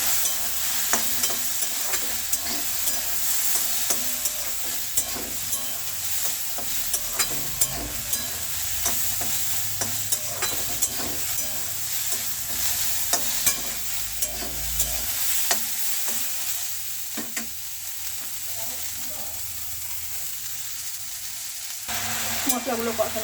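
Spices and masala with salt and turmeric are sautéed in a pan for a stir-fry of taro stolons and prawns, a steady sizzle broken by repeated sharp scrapes and taps of a spatula, with no talk.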